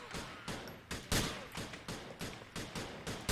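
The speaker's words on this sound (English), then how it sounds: "I'm gonna shoot them." Gunfire in GTA IV with the LCPDFR police mod, a string of about ten loud, sharp shots fired at an uneven, fairly rapid pace, close and dominant.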